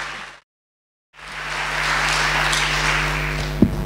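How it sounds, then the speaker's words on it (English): A lecture audience claps for Cherie Blair: after a brief dead gap, a broad, even patter of applause rises and holds at moderate volume, with a steady low hum underneath and a single sharp knock near the end. "A round of applause for Cherie Blair."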